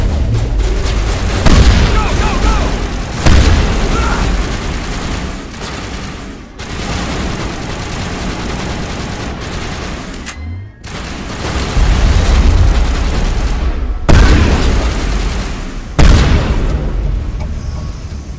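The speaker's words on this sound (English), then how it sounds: "Open fire. Open fire!" Sustained gunfire and heavy booming explosions from the video game Mass Effect, loud and continuous throughout with repeated bursts and blasts, a few brief lulls between barrages.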